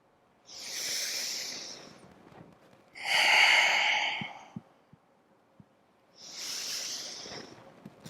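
Three long, breathy exhales during a slow yoga flow, each a soft rushing whoosh lasting a couple of seconds with quiet gaps between, close and fairly clear, with a few faint clicks and no talking.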